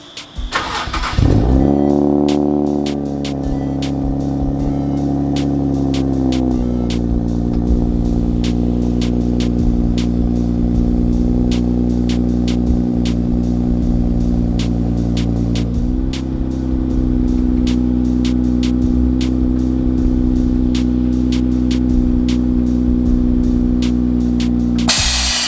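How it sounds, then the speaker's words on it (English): Nissan Z sports car cold-starting early in the morning at a Z-car gathering: a crank and catch, then a raised fast idle that settles in steps to a steady, close engine drone, with faint clicks and background noise. "let's go ahead and do a quick cold start and get the day started."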